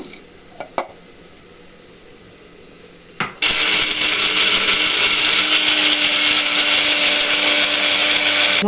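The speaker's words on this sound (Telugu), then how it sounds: "ఇవన్నీ వేసి మసాలా పట్టుకుందాం మనం ఇప్పుడు" A mixer grinder grinding masala spices for mutton curry starts up after a few faint kitchen clicks and knocks, then roars loud and steady, close by, through the rest of the clip.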